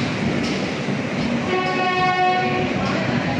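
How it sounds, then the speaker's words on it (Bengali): The Kaviguru Express from Howrah to Rampurhat rolls along with a constant loud rumble of wheels and carriages, while its horn sounds a sustained tone over the middle and end. "চলছে কবিগুরু এক্সপ্রেস"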